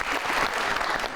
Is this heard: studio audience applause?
yes